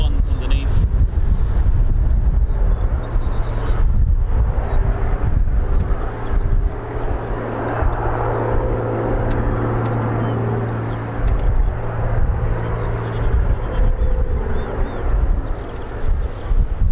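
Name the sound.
Rolls-Royce Merlin engine run of BBMF aircraft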